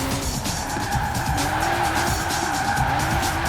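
A BMW M4 Coupe in Forza Horizon 4 brakes hard, and its tyres screech and skid in long wavering squeals over a loud, steady engine roar.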